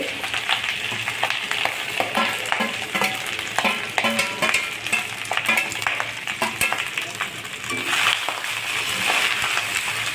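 Cooked cumin-flavoured jeera rice is stir-fried in a pan, a busy run of spatula scrapes and taps against the metal over a light sizzle, continuing steadily throughout.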